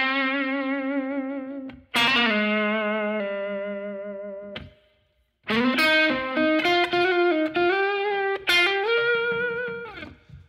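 Electric guitar with distortion and chorus-like effect plays a ballad solo lick in Eb tuning, long bent sustained notes, a short pause, then a busier run of phrases, loud and upfront without speech.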